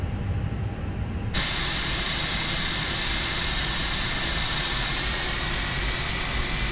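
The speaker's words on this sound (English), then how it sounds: "There's a plane right over there that we're hearing, I believe." An airliner's jet engine running nearby at an airport in Microsoft Flight Simulator, a loud, steady roar with a bright whine that swells sharply after the first second and then holds constant.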